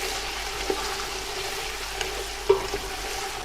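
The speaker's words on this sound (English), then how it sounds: "Give this all a mix now." Onions, red and green peppers and chili frying for a curry base give a steady sizzle with a few light stirring scrapes. The sound is close and continuous, and nobody speaks.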